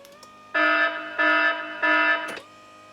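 A homemade box alarm sounds three steady electronic buzzing tones of about half a second each, evenly spaced and loud, with a click of handling at the end and no talking.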